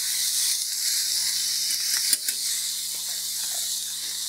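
Meat, onion, tomato and corn fry on a hot griddle with a steady, loud sizzle, broken by a couple of brief scraping knocks of a spatula near the middle.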